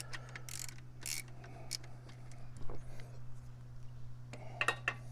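Bolts on an alternator bracket of a Jeep Wrangler JK are loosened with a ratchet, brief clicking and metallic clinks in short bursts over a steady low hum, close by.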